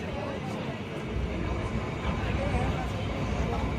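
The Kalka–Shimla Himalayan Queen, train 52455 in Himachal, running along the line after a short station stop, heard as a steady, close, continuous rumble and rattle of the moving carriages.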